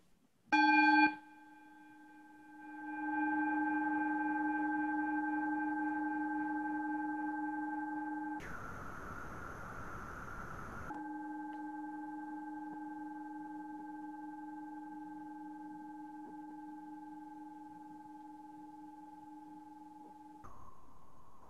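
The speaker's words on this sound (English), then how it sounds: "And so we'll listen for the bell." A mindfulness bell rings with a clear sustained tone that slowly fades, interrupted briefly by a burst of noise, then rings again near the end in quiet surroundings.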